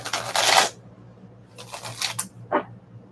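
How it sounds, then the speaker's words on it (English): A deck of tarot cards is shuffled close by in quick papery bursts of riffling and flicking, separated by short pauses, with no talking. "I can't not shuffle the cards."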